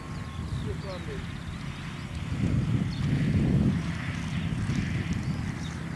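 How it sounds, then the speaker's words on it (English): A Cessna 152 light aircraft lands at Shobdon Airfield with a steady distant engine drone that swells briefly midway, under close outdoor talk and wind. "there's a plane just landing"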